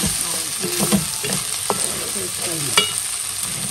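Red onions sizzle and crackle in hot oil while being stirred in a pan, with steady frying hiss and occasional scraping stir strokes, close and clear with no talking.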